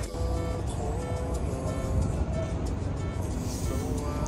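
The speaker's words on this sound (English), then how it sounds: "Guys, ignore the noises. I'm literally on the roadside." Steady road traffic rumbles past a London roadside near a bus park, a low continuous drone of cars and buses passing close by, with no clear talk over it.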